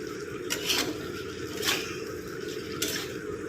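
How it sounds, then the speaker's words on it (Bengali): Utensil scraping and clinking in a pot as soybean chunks are stirred into a tomato, chili and ginger paste, a few distinct scrapes over a steady low cooking background, no talking. "সোয়াবিনটা দিয়ে নাড়িয়ে চাড়িয়ে অল্প করে কষিয়ে জল দিয়ে দিলাম"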